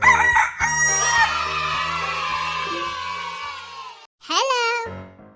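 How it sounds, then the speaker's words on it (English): A rooster in a 3D animal slide video game crows once, loud and drawn-out, over game music, then a short high cartoonish squawk follows after a brief pause. "Chicken."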